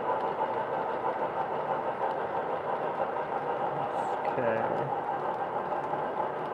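A model Big Boy locomotive runs steadily in the background, a continuous mechanical rumble and rolling drone with a person briefly speaking over it.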